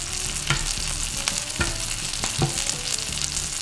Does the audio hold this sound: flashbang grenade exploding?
no